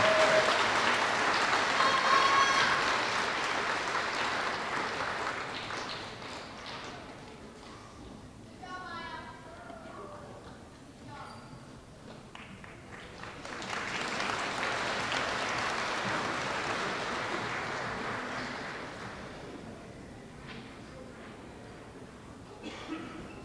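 An audience claps for fourth grade students at an elementary school awards assembly, with a long burst of applause at the start and a second swell in the middle. Both are broad and steady, with voices murmuring around them.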